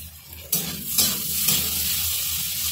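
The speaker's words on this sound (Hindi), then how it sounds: "आलू के साथ मैं थोड़ा सा फ्राई कर दूंगी प्याज को और आलू को भी।" Onion and potato pieces fry in a pan with a steady close sizzle, broken by a few sharp scraping stirs.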